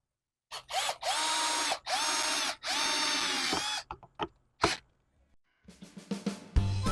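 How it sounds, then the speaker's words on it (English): A power drill whirs in several sustained bursts, then a run of short stop-start pulses as screws are driven into a wooden sign, with faint clicks between. "I'm going to turn the drill down a little bit."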